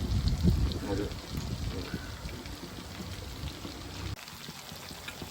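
Water pours steadily into a pot of rice for fish biryani for about four seconds with a rushing, splashing sound, then cuts off abruptly, leaving quiet room noise.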